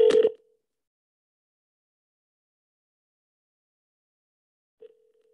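An unanswered outgoing phone call rings twice through the handset, one burst at the start and a second about five seconds later, with dead silence between them.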